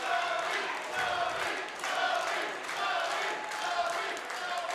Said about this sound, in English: the crowd showing their support for Zoe as well